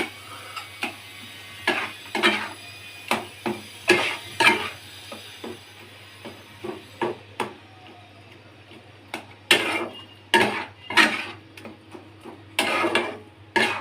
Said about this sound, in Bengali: টমেটোগুলো একটু ঘেটে ঘেটে দিচ্ছি।